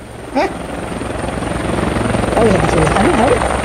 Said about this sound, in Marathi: हाय हेलिकॉप्टर आहे की नाही आवाज येऊन राहिला की नाही